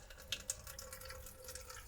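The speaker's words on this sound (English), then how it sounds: "you then squeeze the bag. That then forces the water through" Water squeezed from a bag through a filter into a bottle, a faint, quiet trickle with a couple of small distinct drips near the start, heard close with no talking.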